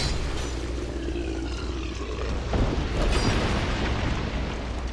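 In Dark Souls 2, thrown oil pots burst into fire with a deep, rumbling whoosh of flames, a steady roar broken by a couple of heavier bursts.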